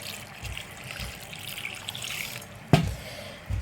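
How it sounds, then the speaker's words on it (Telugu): About half a litre of water trickles into a pot of mutton curry with onions and turmeric, a quiet, thin pour with a sharper splash near the end. "ఒక 1/2 లీటర్ వాటర్ పోస్తున్నానండి."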